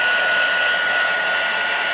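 A heat embossing tool for crafting blows hot air in a steady, loud, even whoosh with a thin constant whine, running alone without any talk.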